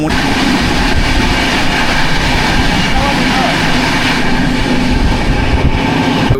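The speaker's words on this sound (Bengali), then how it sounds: "আমাদের ট্রেন ছেড়ে দিল হচ্ছে আমেদাবাদ জংশন" Ahmedabad-Howrah Superfast Express rolling out of Ahmedabad Junction, a steady loud rumble of wheels and carriages with faint clickety-clack throughout, close by as if heard from on board.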